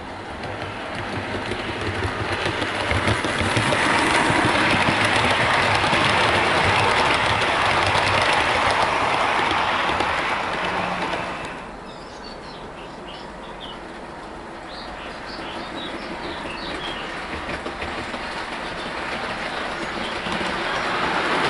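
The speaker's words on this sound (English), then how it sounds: "I have it pulling the Virgin Livery Mark 3s and DVT around the layout" A Bachmann Class 90 model locomotive runs around a layout hauling Virgin-livery Mark 3 coaches and a DVT, a steady rolling rumble and hum that is loud at first, then drops off and continues more quietly.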